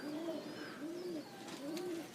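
Racing pigeons, young Modoc High Mountain Zippers, coo repeatedly in soft rolling phrases, three clear calls close by on an overcast morning with no talking.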